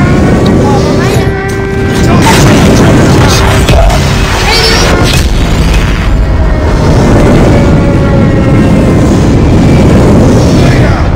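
Heavy airstrike blasts boom continuously in a Call of Duty match, a loud, dense wall of rumbling explosions and crashes with no quiet gaps.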